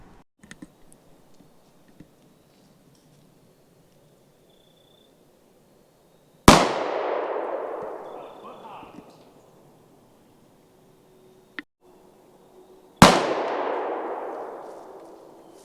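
A Bond Arms Texas Defender 9mm derringer fires two loud, sharp shots outdoors at a pumpkin, spaced several seconds apart, each ringing out in a long fading echo over quiet background.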